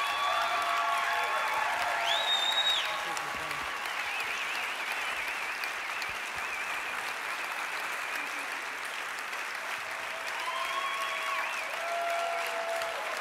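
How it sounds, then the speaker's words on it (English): An audience at an Ignite Phoenix event applauds steadily, a dense, sustained clapping with a few whistles and cheers rising over it. "Let's give it up one last round of applause for them."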